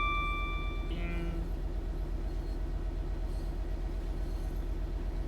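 A Class 66 diesel locomotive in Train Sim World 5 on the West Coast Main Line toward Milton Keynes rumbles steadily with a rhythmic low engine throb, a brief warning tone sounding at the start.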